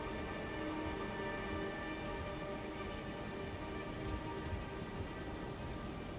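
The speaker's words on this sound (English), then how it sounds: "As we walk, we can hear the rain." Steady rainfall in the game Elden Ring around Redmane Castle, a dense, even hiss of drops on surfaces with a low rumbling undertone, continuous and unbroken with no voices.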